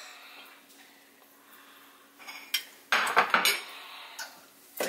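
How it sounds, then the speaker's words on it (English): Cooked black beans are dumped from a metal pot into a serving bowl for mango rice bowls, a quiet lead-in giving way to a close burst of clattering, scraping knocks. "I am ready to add the black beans now. Dump them on in."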